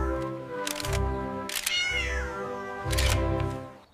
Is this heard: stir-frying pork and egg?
no